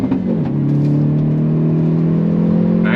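A 2022 Hyundai Veloster N hot hatch engine droning steadily under load, a loud close rising hum with a faint crackle near the end; distinct pops and bangs are not clearly evident.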